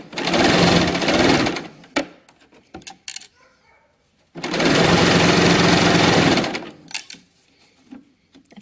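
A sewing machine stitches around the outer edge of a dress pocket, running in two loud, steady bursts of about two seconds each, separated by quieter fabric handling and clicks, close up.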